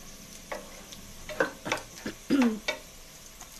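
Onions browning in a pan for a chana daal gosht, soft sizzling under a few light stirring scrapes and ticks of a utensil, quiet and close, no talk.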